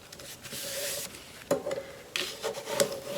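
Bone folder rubbed along paper to crease a fold while assembling a gift folio, a few short close scraping strokes, each a dry rasp against the sheet.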